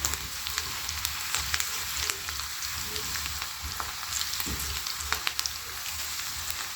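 Ingredients frying in hot oil in a cooking pot give a continuous, moderately loud sizzle with scattered crackles and pops.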